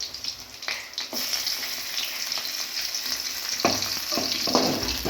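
Ginger frying in a pan with golden sautéed onions for roasted vermicelli upma, a steady close sizzle with scattered crackles and brief stirring scrapes, no voices.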